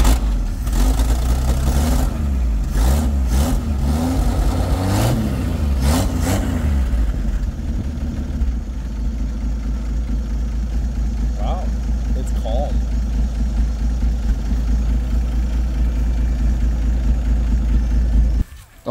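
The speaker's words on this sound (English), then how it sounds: "go ahead and start her up one more time" A 1955 Chevy engine running loud and close, revving in uneven bursts at first and then settling into a steady, rough idle, with people talking over it.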